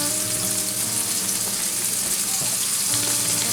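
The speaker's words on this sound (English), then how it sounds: "it'll already start melting that butter" Butter melts in a hot iron skillet fresh from the oven, producing a loud, steady sizzle and crackle that fills the whole short stretch without pause.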